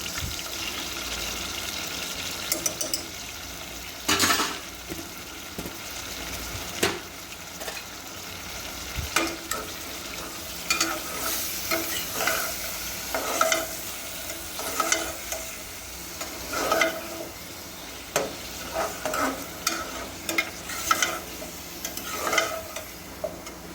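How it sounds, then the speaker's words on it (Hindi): Meat sizzling and frying in a pan with garlic and ginger, with intermittent stirring and scraping clatters over a steady crackle, close up and no voices. "अच्छे से इसको भूनने के बाद ताकि थोड़ी लहसुन अदरक की स्मेल ख़त्म हो जाए इसमें से"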